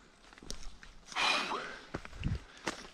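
Heavy breathing from a cyclist walking uphill on a long-distance tour, a loud gasping exhale in the middle among scattered footstep-like thumps and rustling, close to the microphone.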